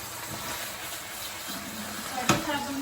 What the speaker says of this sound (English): I'm just gonna saute them a little bit.